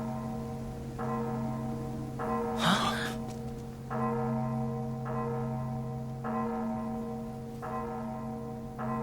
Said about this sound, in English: It's the war alarm.